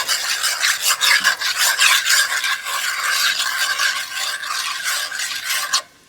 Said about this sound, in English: Add your sauce. Let's mix this together nicely.